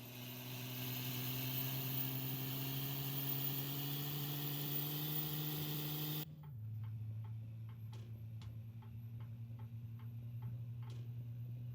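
A 1500-horsepower truck engine in American Truck Simulator drones steadily, its pitch climbing slowly before dropping sharply as the gear shifts, then settling into a lower hum with faint regular ticking over it, continuous and without talk.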